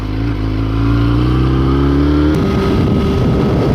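A motorcycle roars at speed along a highway, its engine a loud, steady close drone that shifts pitch partway through as the throttle changes, with wind noise throughout.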